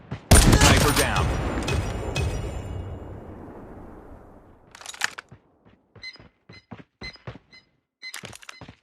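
In a Call of Duty 3 vs 3 gunfight, a loud close burst of gunfire rings out and trails off into a long fading echo, then a run of sharp, separated clicks and thuds follows.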